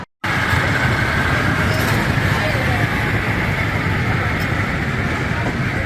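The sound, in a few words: miniature amusement park railroad train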